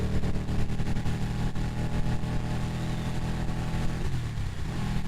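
A Ducati 959 Panigale ridden in sixth gear, its engine a continuous loud drone under heavy wind rush, holding steady before easing off near the end.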